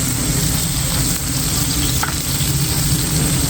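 Beef stir-fries for Thai Pad Kra Pao, a loud, dense, continuous sizzle right up close that never lets up.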